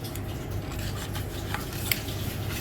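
A plastic scraping tool rasps against the twin gears of an Angel juicer, clearing clogged pineapple pulp with a steady, close scrubbing sound and a few sharper scrapes, with no one talking.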